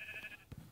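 A sheep in a video game bleats once, a short wavering cry followed by a couple of soft low thuds.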